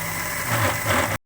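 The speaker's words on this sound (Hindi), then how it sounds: "और इसको ब्लेंड कर लेंगे।" An electric blender grinding onions with a little water into a paste, a loud close motor whirr and churning that cuts off abruptly into silence.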